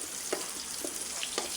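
Onion and garlic frying in oil with turmeric and green chili for a quick potato bhaji, a soft steady sizzle with a few faint stirring scrapes, no voices.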